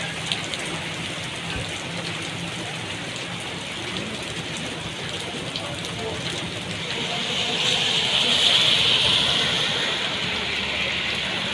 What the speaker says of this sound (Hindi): मूसलाधार बारिश, गरज चमक और तेज़ हवाओं का सिलसिला